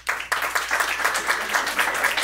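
A live podcast audience in a comedy venue claps in a short vote, a sudden burst of crowd clapping that starts abruptly and keeps up a steady, moderately loud patter for a couple of seconds.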